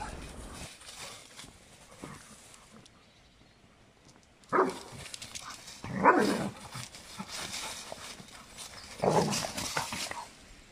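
A dog on a walk meets an unfamiliar dog, giving a few short barks and snuffling sounds in separate bursts over continuous outdoor background noise.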